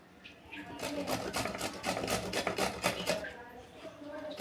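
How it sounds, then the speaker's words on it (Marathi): Potatoes being grated by hand, a rapid series of rasping, scraping strokes at close range, rhythmic and moderately loud, with a voice talking over part of it. "तर फायनली आपले बटाटे किसून झालेत"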